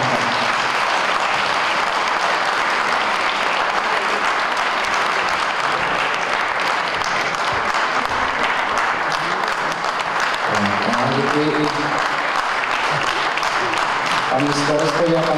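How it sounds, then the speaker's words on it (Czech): Audience applause at a local town event honouring a doctor, a sustained, dense clapping that fills the room, with a voice speaking over the final seconds. "velký potlesk pro pana doktora Jaroslava Čánka."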